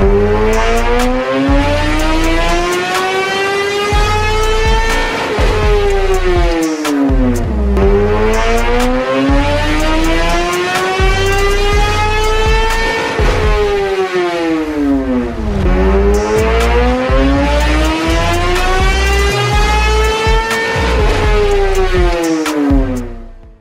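A 2017 Kawasaki ZX-10R sport motorcycle engine on a dyno run, running lean, screams up through its range three times in long sweeps, each climb ending in a drop, loud and sustained.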